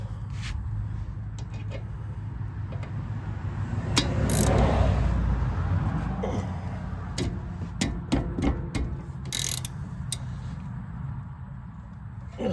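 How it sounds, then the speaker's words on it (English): A socket ratchet works stuck bolts loose on a Honda CR-V wheel hub, sounding as close clicking ticks in short bursts and metallic clinks over a low background hum. "So sometimes it's easier with a socket versus a flat wrench. In this case, they're kind of stuck on there."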